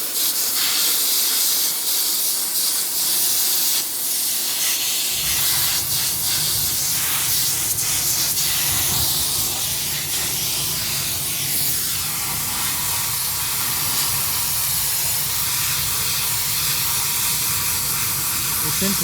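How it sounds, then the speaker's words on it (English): A loud, continuous spray of hissing steam blasts nonstop at close range as a steam cleaner cleans Norton motorcycle parts, its pitch and rumble shifting as the nozzle moves around. "the steam cleaning is sort of reminiscent of when I had my vapor blaster"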